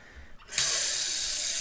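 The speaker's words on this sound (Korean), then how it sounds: "욕조에다 물을 받는 거예요." Tap water gushes into a bathtub, a quiet trickle swelling into a loud, steady rush that fills the rest of the moment close by.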